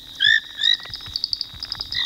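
Male frogs croak at night while churning foam into bubble nests, giving a loud, close series of rising trills followed by quick, repeated chirping croaks, with no voices.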